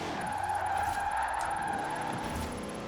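A Dodge Durango drifting in Forza Horizon 4, its tires skidding and squealing steadily over a continuous engine drone, moderately loud and unbroken, with no talk.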